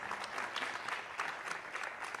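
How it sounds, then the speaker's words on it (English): An audience applauds panelists at the close of a panel session at the Elevate Africa 2025 event, with steady, dense clapping throughout that stays at an even level and has no talk over it. "Can we give our panelists a big round of applause?"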